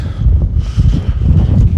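Steady wind gusts in Iceland's East Fjords buffet the microphone with a low, continuous roar, broken by soft flapping rustles of a towel drying in the wind throughout.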